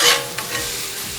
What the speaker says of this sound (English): So as always, we start to scrape and flip. See, now that the patty's free, I flip.